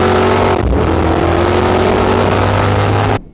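A 1968 Dodge Charger with a 426 Hemi engine rumbles deep and loud, dips briefly early on, then holds a steady throbbing roar before cutting off abruptly.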